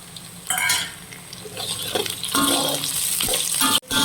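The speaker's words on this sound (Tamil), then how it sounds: "இந்த நேரத்தில் பூண்டு கருவேப்பிலை இஞ்சி சேர்த்துக்கிடுவோம்" Garlic, curry leaves and ginger hit frying onions in a pan, producing a sudden burst of sizzling, then stirring clatter and scraping over continued frying.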